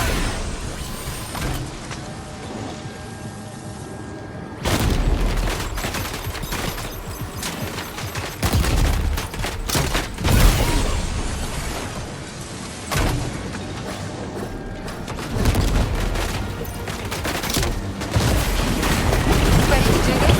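Gunfire in the video game Death Stranding 2 erupts in repeated loud bursts and booms, heavy volleys alternating with short lulls over a rumbling game background.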